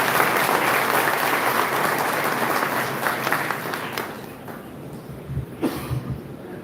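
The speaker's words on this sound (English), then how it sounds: "A big round of applause to our President," Applause from an audience at an academic session inauguration ceremony at NSB Academy in Bangalore: a full, dense round of clapping that gradually thins and fades, ending with a few scattered claps and a cough.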